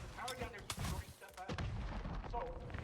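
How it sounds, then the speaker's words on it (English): Gunfire and a stun grenade in the Avatar Frontiers of Pandora video game, with loud repeated shots and booms in a dense, busy combat mix and faint voices underneath. "and then throw a stun grenade."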